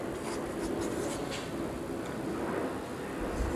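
Pen moving across paper as a journal entry is written, a close, steady scratchy stroke sound with short repeated strokes and no speech over it.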